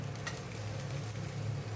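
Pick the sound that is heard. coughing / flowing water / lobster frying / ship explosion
lobster frying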